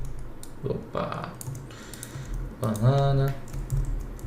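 Fingers tap out quick, irregular bursts on a computer keyboard, close and fairly quiet, while someone speaks over the clicking.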